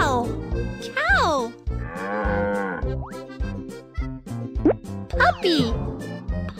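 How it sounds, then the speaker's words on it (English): A cow moos in long, low drawn-out calls over playful plopping sounds and a bright melody, with someone speaking in between. "Cow. Cow."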